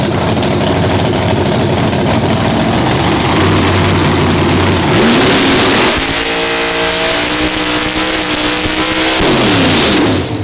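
A drag racing car's engine revs hard and loud during pre-track testing for a FuelTech Radial Outlaws event, rising and holding at high pitch, then dropping back and climbing again, close-up and filling the whole clip.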